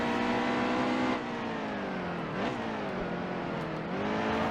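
Stock car engine roars in a NASCAR racing game. The loud, buzzing engine note drops off the throttle, then climbs as the car accelerates again, with brief pitch dips at the gear changes.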